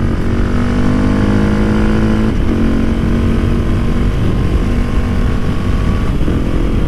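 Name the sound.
motorcycle with Wings aftermarket exhaust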